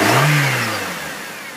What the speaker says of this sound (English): Give us some gas, Jeremy.